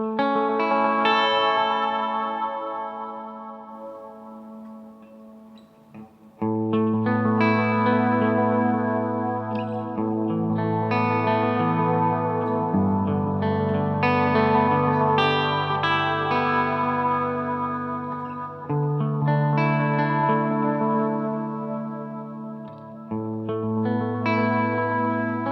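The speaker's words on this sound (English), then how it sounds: "you can start to hear the delays go into the reverb and the Benson effect" Electric guitar through a Hungry Robot The Wash pedal, sustained chords smeared by delays, reverb and a shimmering wash, each strum swelling into a long ambient tail, with no talking.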